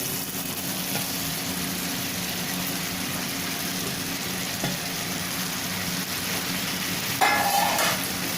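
Pasta tossed with softened vegetables in a pan gives a steady, fairly quiet sizzle with soft stirring scrapes, and a brighter burst of frying noise comes near the end.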